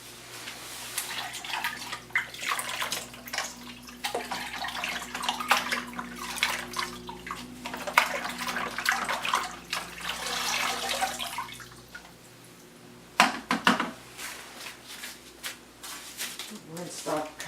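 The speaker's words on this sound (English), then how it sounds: "Rinsed off kind of nicely my bucket of water I have standing by." Acrylic paint being rinsed from poured pieces in a standing bucket of water gives steady sloshing and splashing, with a few sharper splashes near the end.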